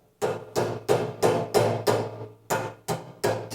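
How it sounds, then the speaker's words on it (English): A rubber mallet taps plastic end caps onto the axle ends of a Sunfire radiant shop heater during assembly: eight firm, evenly spaced knocks, close and fairly loud, with no talking. "Probably definitely going to need a rubber mallet for you'll take 2 of these caps like this."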